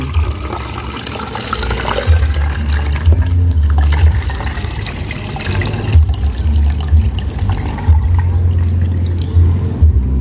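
Blended eucalyptus-leaf liquid is strained through a filter, pouring and splashing in an uneven, near, fairly loud stream with brief pauses and no talking.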